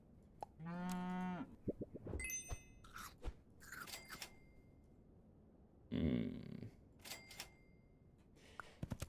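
A cartoon cow moos in the video game Super Auto Pets, two stretched lowing calls among quick chirpy game blips, clicks and crunchy effects, close and clear without talk.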